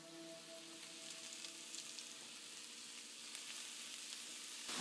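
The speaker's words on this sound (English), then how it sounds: "and then add all the mushrooms to the pan." Mushrooms sauté in oil in a pan over medium heat, producing a faint, even sizzling hiss that holds steady throughout.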